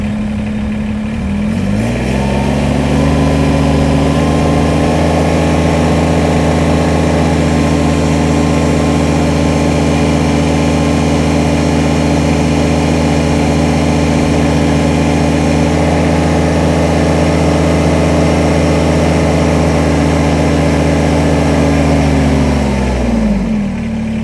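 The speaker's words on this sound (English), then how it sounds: "So I'm going to fire up the tractor and see how much we can lift." A Kubota BX23s compact tractor engine starts and idles with a deep, steady rumble close by for over twenty seconds, then winds down at the end.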